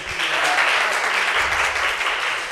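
Steady, dense audience applause fills a hall at an art council event in Gujranwala, a loud continuous wash of many hands clapping without a break.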